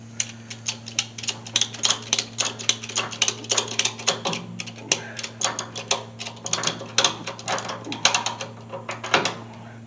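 A ratchet strap is cranked tight on the front end of a 1979 Chevy C10 Squarebody pickup, giving fast runs of sharp mechanical clicks in uneven bursts over a steady background hum.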